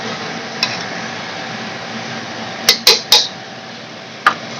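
Spoon stirring lentils and ginger together in a cooking pot, with faint background hiss and a few sharp metallic scrapes and clinks against the pot's side; close and without talk.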